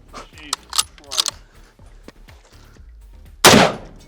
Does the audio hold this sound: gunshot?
yes